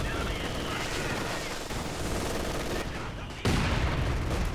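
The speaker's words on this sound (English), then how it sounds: "Flak half track's going to try to repel that." A flak half-track firing in a Company of Heroes 2 battle, with dense repeated automatic gunfire under constant battle noise, a heavier burst near the end, and a voice talking over it.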